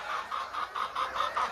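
Desi Golden Misri laying hens on a poultry farm in Punjab, Pakistan, cluck in a steady rhythm of about seven close, evenly spaced pulses, with no voices.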